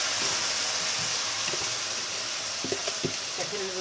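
Rice is poured onto thick vermicelli and fries in a pan, giving a close, even crackling sizzle with a few scraping stirs and light knocks near the end.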